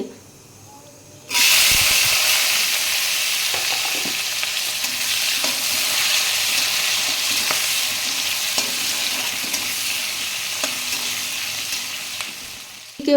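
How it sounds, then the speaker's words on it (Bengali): Whole cloves and cardamom hit hot oil for a soybean curry tempering: after a brief quiet moment a loud sizzle bursts out and settles into a steady, close hiss, with occasional stirring clinks. "ওই তেলে লবঙ্গ এলাচ ফোড়ন দিয়ে দিব তারপর দুটো শুকনো লঙ্কা দিয়ে দিব"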